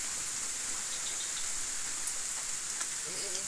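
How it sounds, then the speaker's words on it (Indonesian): Rain pours steadily on an outdoor hunting camp, a constant close hiss of falling drops with a faint bird note near the end. "Masih hujan guys, kita nggak bisa pulang."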